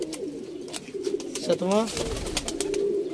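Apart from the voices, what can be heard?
pigeons cooing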